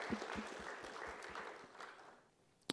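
Applause from an audience at a cannabis industry gathering in New York, a steady patter of many hands that fades out, ending with a sharp click.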